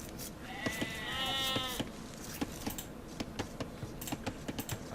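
Sheep in a real-time strategy match give one drawn-out wavering bleat, followed by a steady run of quick clicks and taps.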